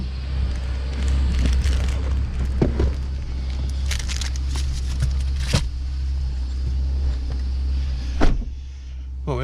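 A Suzuki Vitara with a throttle fault runs at a fixed 2,000 RPM, a steady low engine hum close by, overlaid with scattered clicks, knocks and handling noises.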